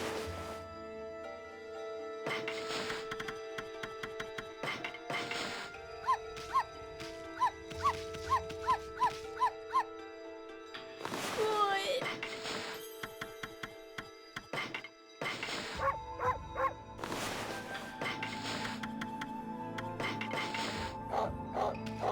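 Dogs in the video game Ōkami bark in short repeated bursts over looping game music, some yaps quick and evenly spaced, others louder and scattered.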